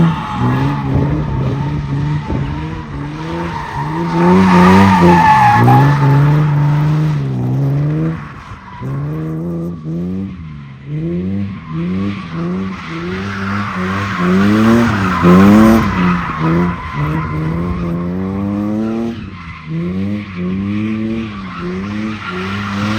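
BMW E36 with a straight-pipe exhaust, two large resonators and a muffler, revving with a raspy, droning tone that rises and falls in repeated pulls, loud and close with no voices.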